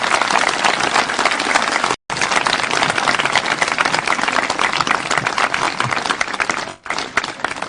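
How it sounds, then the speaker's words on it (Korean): An audience at a Saturday lecture series gives sustained, dense applause to welcome a Buddhist monk lecturer, a loud, even wash of many hands clapping with two brief dropouts. "큰 박수로 맞아주시기 바랍니다."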